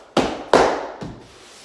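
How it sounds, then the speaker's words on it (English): Coarse grasscloth wallcovering being banged into position on a wall, three sharp close thumps, the first two strong and the third softer, each with a short ringing tail in a quiet room. "So I'm manipulating the coarse paper, the very stubborn paper, into position by banging it into position."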